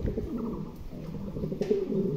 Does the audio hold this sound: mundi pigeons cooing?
yes